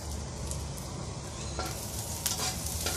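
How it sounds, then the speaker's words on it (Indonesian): Shallots sizzle steadily in hot oil in a pan while being fried for Hong Kong-style fried noodles, a close, continuous crackle with occasional stirring scrapes and no talking. "Bawang merahnya kita goreng sampai matang, sampai harum, agak kuning-kuning gitu."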